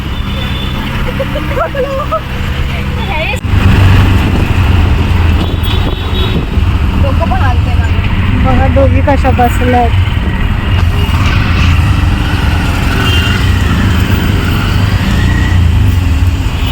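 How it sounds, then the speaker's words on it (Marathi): Auto rickshaw engine droning steadily throughout a ride, with road noise and occasional passing traffic, under women's chatter. "फायनली आम्ही रिक्षात बसलो आहे"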